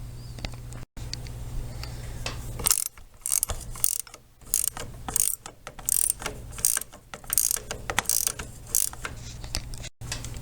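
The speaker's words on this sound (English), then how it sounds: "I'll take a 9/16 to this and pull the steering wheel off" A 9/16 wrench ratchets to loosen the steering wheel nut on an old Craftsman riding mower, in repeated bursts of close, crisp clicking separated by short pauses.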